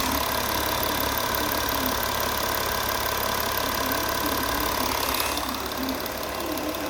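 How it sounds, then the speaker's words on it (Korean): A Porsche Panamera's engine idles steadily with a low, even rumble and faint mechanical ticking, close by, with no talking. "자 바로 엔진음 들려드릴게요"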